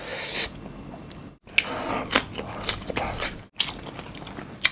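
Thai northeast sausages are bitten and chewed up close in crisp crunches and wet squishy chews, with repeated bites separated by brief silent pauses and no talking.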